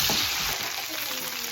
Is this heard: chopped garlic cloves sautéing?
yes